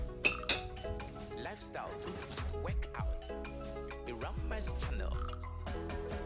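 Salad cream being mixed in a bowl: bright clinks and scrapes of a utensil against the bowl in irregular bursts, close by, with a voice talking over part of it.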